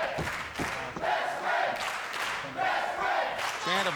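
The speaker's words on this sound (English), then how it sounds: "Chant of best friends here at the crowd here at Universal Studios in Orlando" A wrestling crowd at Universal Studios in Orlando chants in a rhythmic, repeated cadence, a broad roar of many voices swelling and dipping at a moderate distance, with a commentator's voice speaking over it.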